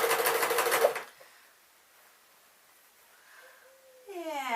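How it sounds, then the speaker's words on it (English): Sewing machine stitching a strip of elastic onto the underside of a pink dress, a loud, fast continuous run lasting about a second, then near-quiet handling before a brief whir resumes at the end. "we can just sew a piece of elastic underneath, take the fullness of the dress"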